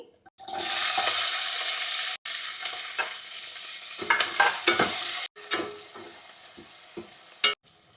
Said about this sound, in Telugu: ఆనియన్స్ అయితే కొంచెం ఫ్రై అయ్యాయండి